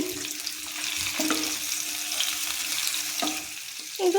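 Brinjals roasting in a pan over a low flame make a steady, soft sizzle that continues throughout, with a couple of brief stirring scrapes and a small clatter near the end, close by and with no voices.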